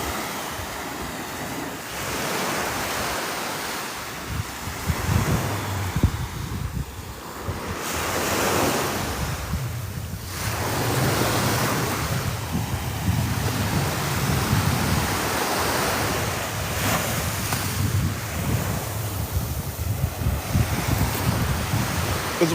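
Ocean surf on Florida's East Coast, with heavy waves breaking and washing in repeated surges amid gusty wind buffeting the microphone.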